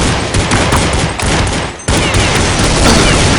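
Gunfire in Counter-Strike 1.6: a loud, dense burst of rapid automatic shots fills the whole stretch, with one brief break before the shooting resumes just as heavily.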